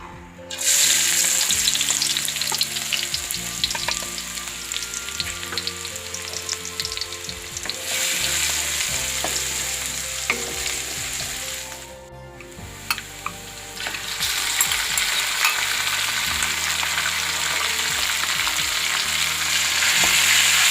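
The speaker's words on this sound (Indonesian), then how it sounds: "Kalau sudah panas, kita masukkan bawang merah dan bawang putih yang sudah dicincang." Chopped shallots and garlic hit hot oil and fry with a loud, continuous crackling sizzle that dips briefly midway, then surges again as it keeps going.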